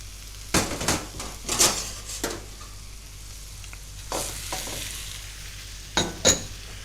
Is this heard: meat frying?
yes